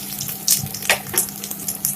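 Food frying in a pan on a low flame for an Assamese muri ghonto dish, producing intermittent close sizzling bursts and soft crackles over a steady low hiss.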